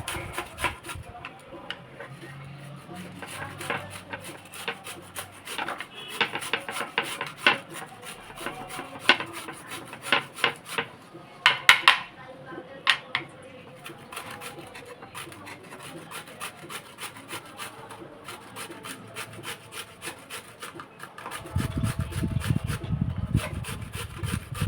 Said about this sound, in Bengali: তারপরে একটা গ্রেটারের গায়ে আপনি এই খোসা সমেত এবং আটা সমেত এটা গ্রেট করে নিন।